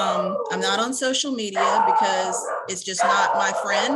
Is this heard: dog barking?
yes